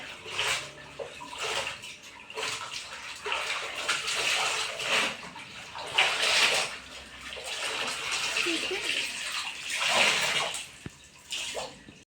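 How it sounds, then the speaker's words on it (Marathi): Water sloshes and splashes steadily as curtains and sofa covers are swished and wrung in clean water in a tub, close by, with a faint voice in the background. "स्वच्छ पाण्याने आपण आता पडदे आणि सोफ्यावरचे जे कवर आहे ते धुवून घेतलेले आहेत"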